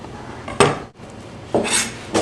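Toasted cumin seeds are tossed into a pot while Texas red chili is made at a grill kitchen in Phoenix. Two short clattering rattles stand apart, with quiet kitchen background between them.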